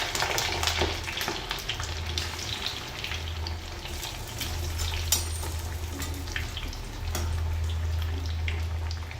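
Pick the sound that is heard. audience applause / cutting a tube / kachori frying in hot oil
kachori frying in hot oil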